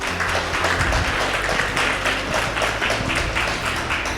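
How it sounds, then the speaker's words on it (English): Dense, steady crowd applause fills a cheque handover ceremony, honouring community hubs from Joburg, Cape Town, PE, Western Cape and KZN. The clapping runs continuously at an even level with a busy room roar beneath it. "So a round of applause to them."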